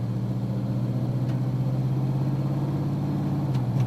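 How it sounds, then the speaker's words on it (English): A car with a 4L60E automatic transmission drives under light throttle, with a steady mid-pitched engine drone heard from inside and no obvious surges, and no one speaking. "Start with some light throttle upshifts and feel for the 1-2,"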